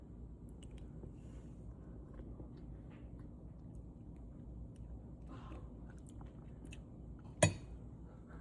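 Someone eating a spoonful of sausage potato soup topped with cheese, quiet close chewing and soft mouth sounds over faint room hiss, with one sharp brief clink near the end.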